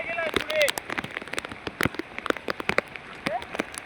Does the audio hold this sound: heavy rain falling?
yes